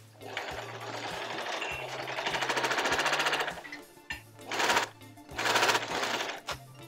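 A sewing machine stitches blouse sleeves joined right side to right side, its rapid mechanical chatter running in several bursts of varying length with short pauses between.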